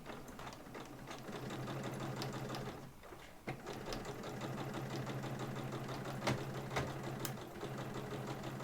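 A sewing machine stitching a cross body bag runs in a steady, fast mechanical chatter, close and even, pausing briefly near the middle before resuming.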